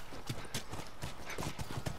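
Horse hooves clip-clop in The Last of Us, a steady, close trotting rhythm of hoof strikes over a constant background ambience, with no talking.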